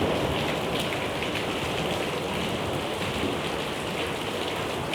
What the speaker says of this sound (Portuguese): E logo a seguir um trovão.